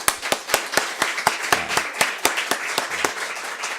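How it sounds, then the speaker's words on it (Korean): Church congregation clapping in unison to glorify God, sharp, evenly spaced claps in a steady rhythm of about four per second, close and clear with no talk. "주님께 영광의 박수 한번 합시다"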